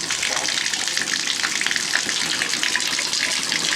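Tap water gushing from a faucet fed by a well pump in a winterized house, a loud steady rushing stream that runs continuously and close by without any talking.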